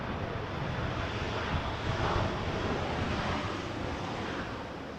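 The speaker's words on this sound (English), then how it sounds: "Got a WestJet 737 coming in" A WestJet Boeing 737 comes in to land at Vancouver airport as a broad, steady roar of jet noise mixed with wind rush, loud and sustained.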